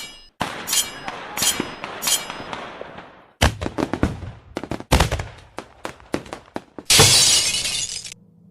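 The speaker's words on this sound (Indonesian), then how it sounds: "Konfrontasi yang terjadi membuat suara ledakan, logam berbenturan, dan bunga api menari dalam kegelapan." Sharp bursts and crashes with glassy, metallic shattering from explosions and clashing metal in Mobile Legends, some in quick clusters and one long bright crash near the end, loud and close.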